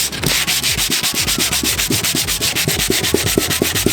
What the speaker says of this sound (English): So with this sandpaper, just giving it a good rub.